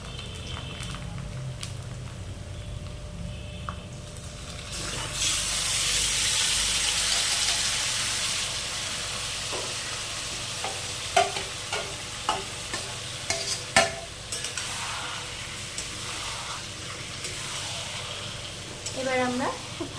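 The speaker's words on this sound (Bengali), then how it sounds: "এবার আমরা এর মধ্যে দিয়ে দেব মাখিয়ে রাখা চিকেনটা।" Marinated chicken hitting hot oil with onions fried until red, a loud steady sizzle swelling then settling, with scattered clinks and scrapes of stirring near the end; speech is faintly present in the background.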